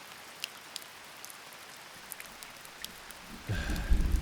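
Light rain falls quietly with scattered soft drips and patters, then a louder gust of wind and heavier rain noise swells near the end.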